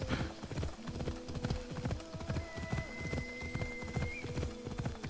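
Video game sound of a horse's hooves galloping in a quick, steady rhythm, with sustained musical tones humming in the background.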